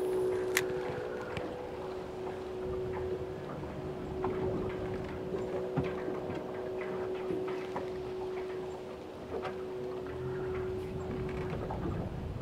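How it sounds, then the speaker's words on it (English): Gusty southerly wind blows steadily across an open lake in December, a constant broadband rush with a faint steady hum running through it and a few scattered small knocks, no voices. "It's out of the south, so it's blowing me straight down lake. It's kind of gusty"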